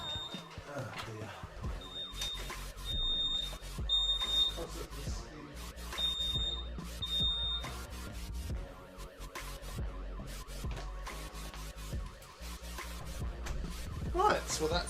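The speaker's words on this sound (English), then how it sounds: "I've got to sort out the fire alarm" A smoke alarm goes off indoors, sending out short, high, intermittent beeps over a busy background of music-like sound and noise.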